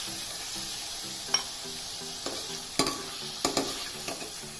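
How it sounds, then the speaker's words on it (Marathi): Paneer pieces lightly frying in a kadhai for dhaba-style paneer masala, giving a soft steady sizzle with a few sharp clinks of stirring scattered throughout. "हे पीसेस आपल्याला थोडेसेच भाजून घ्यायचे आहेत"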